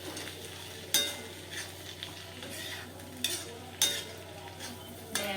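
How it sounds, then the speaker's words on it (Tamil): Chili powder masala for an aloo paratha filling sautés in a pan, a low steady sizzle broken by several sharp spatula scrapes and knocks spaced a second or two apart. "இப்போ இதை நல்லா இப்போ வதக்கணும்"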